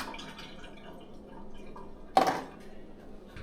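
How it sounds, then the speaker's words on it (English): Blood and water from chicken livers pour into a sink strainer in one short, close splash against faint background noise. "I'm going to strain all this blood and water"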